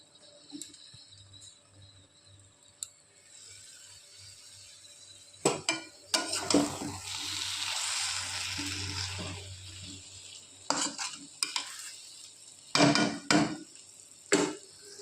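Taro stolons (lati) are stirred in a pan on a gas stove. A spoon makes intermittent scraping clatters and metallic knocks, with a brief sizzling wash in the middle and sharper knocks near the end.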